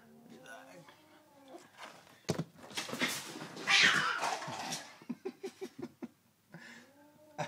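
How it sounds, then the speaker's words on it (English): A house cat meows and yowls in drawn-out, rising cries at close range, followed by a string of short chirping calls, with quiet human speech between them. "That's one of my other cats."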